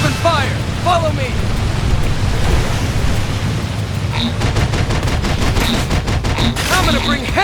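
Rapid bursts of gunfire crackle through a battle in Xenoblade Chronicles X, a dense rattling fusillade over a constant roaring, surf-like wash. Game voices call out beneath it, and sharp repeated shots punctuate the later seconds.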